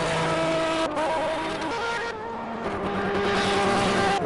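LMP1 prototype race cars scream downhill under the Dunlop bridge at Le Mans, loud sustained engine whine shifting pitch as they pass and change gear, with a brief dip midway.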